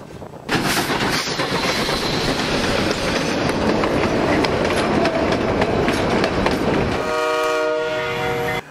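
A Canadian Pacific 2816 Empress steam locomotive rumbles past close by, loud and continuous with heavy chugging and clattering, ending with a high horn-like tone as it fades.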